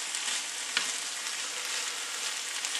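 Onions sizzle and fry steadily in a pan with plenty of garlic, a continuous close crackling hiss with a single brief knock partway through.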